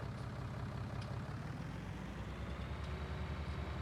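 A farm tractor's engine rumbles low and steady while reversing a fertiliser spreader, heard at moderate distance with no talk.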